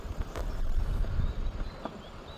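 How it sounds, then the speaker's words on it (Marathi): The Krishna river runs as a steady, rushing broadband wash throughout, with a few faint knocks over it and no voices. "इथं आता खळाळता प्रवाह आहे."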